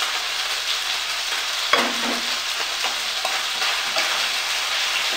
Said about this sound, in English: And just listen to that sizzle.